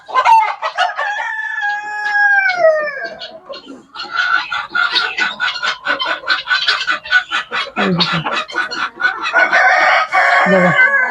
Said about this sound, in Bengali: প্রচুর সোনালি মুরগি আছে